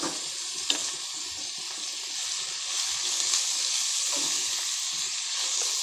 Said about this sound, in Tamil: இன்னும் கொஞ்சம் குழம்பு மிளகாப்பொடி போட்டு கொஞ்சம் வதக்கி விடணும்